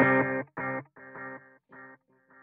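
An electric guitar through a Line 6 Helix dual delay set to dotted-eighth and eighth-note repeats plays a short distorted phrase, and each note trails off into several quieter, evenly spaced echoes.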